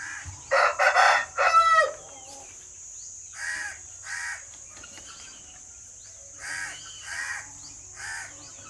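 A male guinea fowl chases a female during a mating fight: a loud burst of harsh rapid calls opens, then shorter grating cries repeat at irregular intervals, fairly close.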